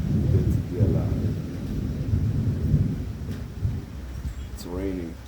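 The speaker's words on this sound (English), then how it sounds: "It's raining, stormy. Well, I wouldn't say stormy, it's thundering." Low, rolling thunder rumbles continuously through steady rain, loud and fairly close, with a voice briefly heard alongside the storm.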